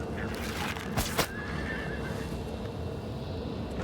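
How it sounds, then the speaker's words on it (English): A horse neighs in The Elder Scrolls IV: Oblivion, one clear whinny rising near the one-second mark over a steady bed of game ambience and footsteps. "Oh, horse."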